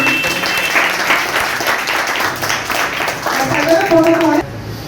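Sustained audience applause at an NGO event honouring eight child athletes from Yamunapar, with dense clapping filling the hall throughout and voices mixed in beneath, ending abruptly near the close.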